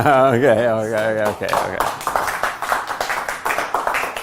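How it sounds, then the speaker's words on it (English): Audience applause in a live mentalism show, a dense run of many hands clapping at close range that begins abruptly after a sung or sustained voice and carries on steadily to the end. "I see you clap"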